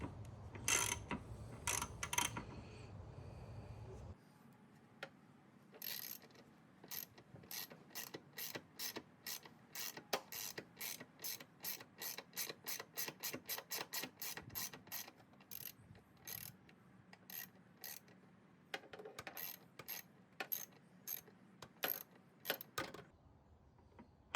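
A ratchet socket wrench clicks in rapid bursts as it undoes tight screws on a Mace cold air intake fitted to a Holden VT, VX or VY Commodore, close and clear, with a short rumbling scrape before the ratcheting starts.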